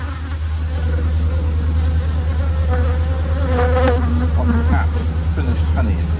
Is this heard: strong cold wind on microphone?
no